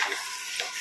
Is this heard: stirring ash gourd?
yes